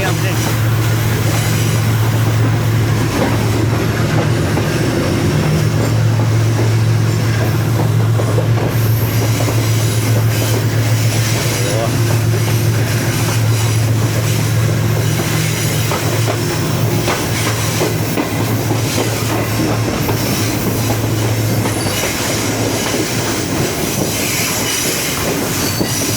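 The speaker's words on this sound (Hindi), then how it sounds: "ये U40 की आवाज़ सुनी आपने?" Refurbished Pak Business Express train hauled by a U40 diesel locomotive, a loud continuous roar of engine drone and rolling wheels with rail squeal, heard close throughout.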